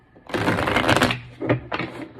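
Rapid riffling and flapping of a deck of tarot cards being shuffled, close and loud, in a continuous burst followed by two shorter riffles.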